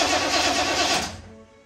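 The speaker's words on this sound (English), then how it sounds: "go ahead and turn the key, see if we have spark again" 1984 Corvette C4 engine cranking as the key is turned during a distributor rebuild, a short burst of rapid starter churning that stops abruptly after about a second.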